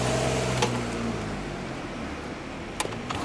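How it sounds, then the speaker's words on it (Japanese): Modified Honda Ape50 4-mini motorcycle with a BMS-R exhaust idling, a steady low mechanical drone that holds even for the whole stretch, with a couple of faint clicks and no talking. "おー、エンジン鳴ってる。"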